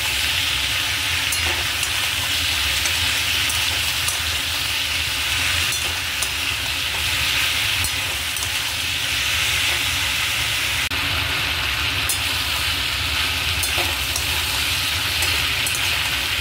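Bengali-style pumpkin curry with chopped tomato and salt fries in a pan while being stirred, giving a steady, close, crackling sizzle throughout with occasional utensil scrapes.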